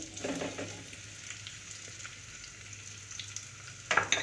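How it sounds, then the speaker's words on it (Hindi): Finely chopped onions frying in a pot for beef stew: a steady, moderately quiet sizzle throughout, with a few louder stirring scrapes and crackles near the start and again just before the end. "अब मैं इसके अंदर ये जो मैंने प्याज काटी हुई थी बारीक, वो मैं डाल रही हूँ"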